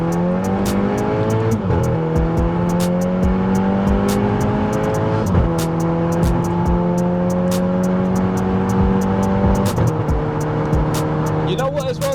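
A modified 1.4 Polo GTI making around 215 brake horsepower accelerates through several gears, its engine note climbing and dropping at each shift, loud and close, with clicks and people talking over it.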